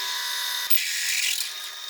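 Drill bit, 6 mm then 12.5 mm, boring through steel for a 200cc mini-bike frame: a steady high whine close by, slight change in pitch midway as it bites, continuous and loud with no speech.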